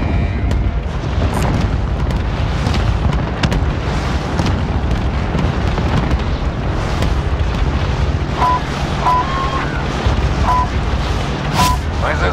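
Continuous booming bomb explosions and blasts in the video game Call of Duty: Warzone Pacific rumble throughout, dense and loud, with a few brief electronic tones near the end.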